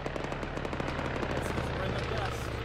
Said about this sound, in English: Gunfire northwest, engaging Reaper.